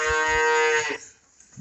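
A cow moos once, loud and close, with a long harmonic call that cuts off partway through, in a pen corner where she has just calved.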